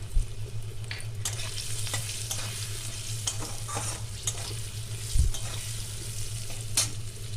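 Raw mango pieces with turmeric, salt and three green chillies are stirred in a pan for a sour curry. A steady sizzle runs throughout, broken by scattered scraping strokes of a utensil and one firmer knock near the end.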